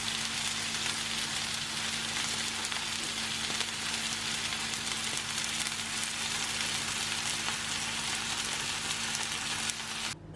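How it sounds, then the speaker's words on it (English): Meat sizzles and crackles steadily in a hot pan, a dense continuous fizz with a low hum underneath and no talking. "we're going to fry it up in a nice hot frying pan"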